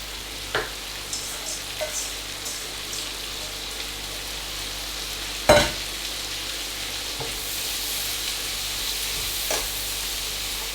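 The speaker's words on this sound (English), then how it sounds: "into that we are going to add our thinly sliced onions" Thinly sliced onions fry in leftover bacon fat in a pan, a steady close sizzle with occasional clicks and knocks of stirring, no talk.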